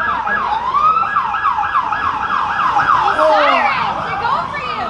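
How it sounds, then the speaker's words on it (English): A wailing emergency siren sweeps rapidly up and down, loud and fairly close, with a second siren tone overlapping near the end. "The sirens!"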